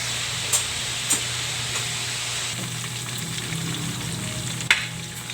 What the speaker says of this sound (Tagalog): Ano guys ang ating pangalawang batch na piniprito.